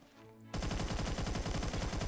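Rapid automatic gunfire in a video game bursts in after a brief quiet moment, a loud, dense stream of shots continuing to the end.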